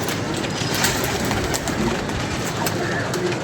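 Racing pigeons cooing up close as they return from a long flight, soft throaty calls set against a steady wash of outdoor background noise, with no talking.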